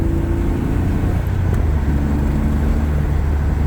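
A BMW E46 drift car on a shakedown test drive, heard from inside as a loud, steady engine drone and road rumble with no talking.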